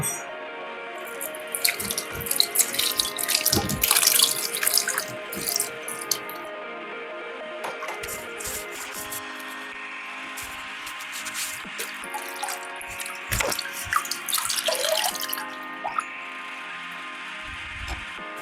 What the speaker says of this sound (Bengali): তা প্রথমে আমি তালটাকে খুব ভালো করে ধুয়ে নেব।